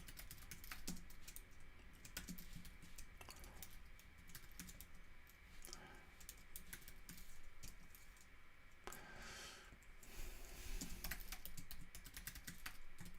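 Continuous rapid keystrokes on a computer keyboard while writing code, steady close clicking with occasional louder key presses and no voices.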